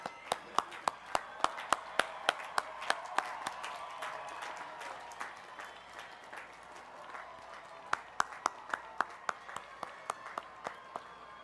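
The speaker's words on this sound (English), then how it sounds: "You can stand now and we'll applaud." Graduates at a hospitality college commencement applaud their standing parents, with crisp close claps in quick rhythmic runs over a soft wash of crowd applause that dips briefly midway before the clapping picks up again.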